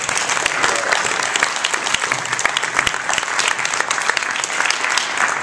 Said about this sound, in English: So let's give them a hand clap.